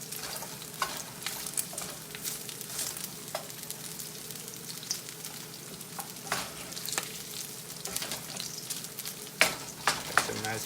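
Sausage sizzles in a cast iron pan with a continuous soft crackle. A dull wooden spatula breaks it apart and scrapes the iron, adding irregular clacks and scrapes that cluster toward the end.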